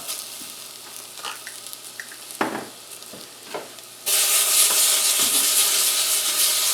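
Tomato paste roasting in a pan with vegetables starts as a quiet sizzle with a few scrapes and stirring knocks, then the frying jumps to a loud, dense, continuous hiss.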